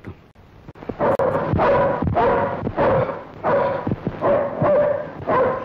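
A dog in a Telugu film scene barks loudly and close by, about six sharp barks in a quick, uneven rhythm, with no talking over them.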